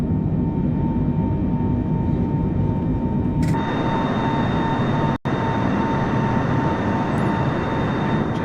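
Boeing airliner taking off in Microsoft Flight Simulator from Boston Logan, a steady loud engine roar that rises in intensity partway through, with a brief dropout near the middle and no talking.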